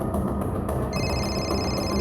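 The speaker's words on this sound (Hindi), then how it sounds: "सर, नेहा का फोन" A telephone starts ringing partway through, a thin, steady electronic trill that sits over a dull indoor background hum.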